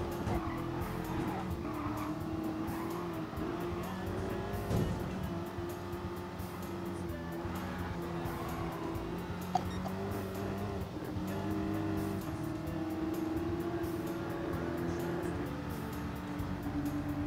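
A Subaru race car in Gran Turismo Sport drives hard, its engine droning steadily with shifting pitch alongside tire squeal and other cars in the race, continuous and moderately loud with no talk.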